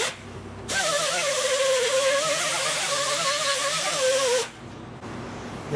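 A brass wire wheel on a power tool scrubs a primered 1972 Triumph GT6 frame, giving a loud, steady whirring buzz with a wavering pitch that starts abruptly, holds for about four seconds and then cuts off.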